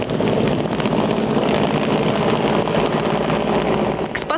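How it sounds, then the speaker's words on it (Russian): Rescue helicopters hovering over the sea near Sochi during a rescue exercise: a loud, continuous rotor-and-engine roar close by, with a brief sharp burst right at the end. "Спасательные операции привлекают еще 2 вертолета."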